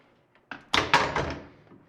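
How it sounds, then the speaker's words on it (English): A muffler is pulled straight back off the stock bracket of a Yamaha YXZ side-by-side with a quick run of close, heavy metallic thunks and clunks that fade out. "now that the bolts are out of the bracket, we can pull straight back"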